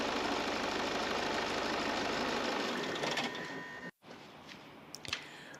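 A Peugeot/Citroen HDi diesel engine runs steadily with a dense mechanical clatter, then the noise drops away briefly near the end before a quieter idle resumes with a few sharp clicks.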